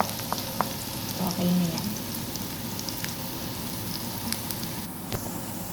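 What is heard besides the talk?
onion sautéing in a pan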